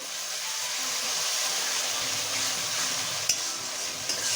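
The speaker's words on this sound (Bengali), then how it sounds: "রসুন বাটা রসুনটা একটুখানি বেশি দিতে হবে তো দেওয়ার পর এটাকে ভালো করে নাড়িয়ে দিতে হবে" Garlic paste being stirred in a hot frying pan for chicken kaliya, a steady sizzle and hiss with faint scraping, alone and fairly close.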